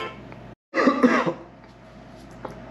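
A burst of harsh coughing, close and loud, lasting under a second after a brief silence, then a quiet room tone.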